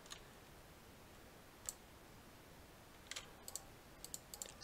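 A few soft, sharp clicks sound sparsely over a quiet background hiss, one alone then small clusters near the end.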